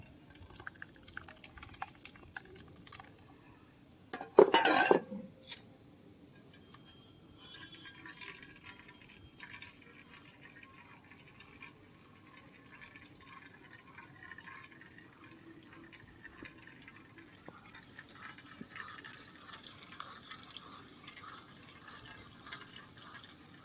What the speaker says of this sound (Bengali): তরমুজের পেস্টটা আমি এবার আস্তে আস্তে ছাঁকনি দিয়ে ছেঁকে নেব